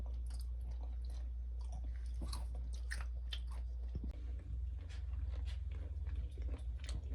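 Close, steady crunching and biting of a crisp, sweet homemade snack, with repeated munching bursts continuing throughout and no talking.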